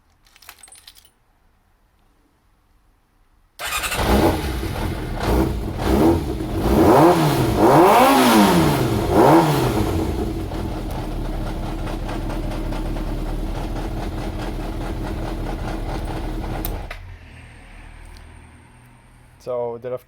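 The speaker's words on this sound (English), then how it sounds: "So I will start the bike to make sure that the ref counter works now." A Yamaha XJR400 motorcycle engine cranks and catches after a quiet start, then revs up and down a few times before settling into a loud, steady idle that cuts off abruptly near the end.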